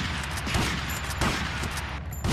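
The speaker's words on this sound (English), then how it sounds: "No, I definitely need to shotgun them" Shotgun gunfire in the game Grand Theft Auto Vice City, a dense, loud stretch of overlapping shots and blasts with a couple of sharper bursts standing out against steady game noise.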